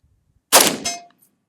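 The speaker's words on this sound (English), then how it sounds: "Let's shoot it unsuppressed real quick." A single unsuppressed shot from a KAC SR25 .308 semi-auto marksman rifle cracks loud and close, followed almost instantly by the ringing clang of a bullet striking a steel target 60 yards away, with a short metallic ring-out and no talking.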